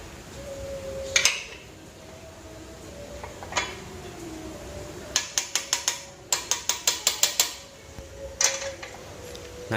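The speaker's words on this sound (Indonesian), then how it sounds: "saya menggunakan kunci T buat nahan baut yang dalam" A T-wrench holds a deep bolt while fitting a motorcycle tracker bearing arm, giving metallic clicks and short bursts of rapid ratcheting taps, close and fairly loud with quiet gaps between.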